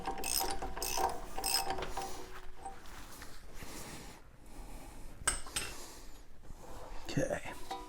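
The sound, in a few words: ratchet wrench snugging up wheel hub bolts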